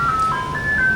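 An ice cream truck's chiming tune rings out clearly and loudly, a bright melodic jingle with sustained notes drifting over low street noise, no talking.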